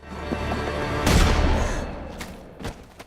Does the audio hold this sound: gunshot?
yes